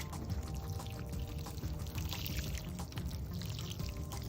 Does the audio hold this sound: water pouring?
yes